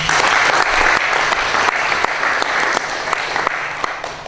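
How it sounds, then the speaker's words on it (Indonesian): An audience at an Indonesian lecturers' national camp seminar claps for two speakers, loud, dense and sustained applause with sharp individual claps standing out, tapering slightly toward the end. "Mari kita beri tepuk tangan."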